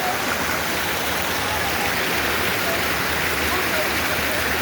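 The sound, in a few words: waterfall water flowing at Three Falls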